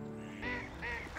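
A duck quacks twice in quick succession, nasal honking calls close and fairly clear over a quiet background.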